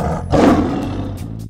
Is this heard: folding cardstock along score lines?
no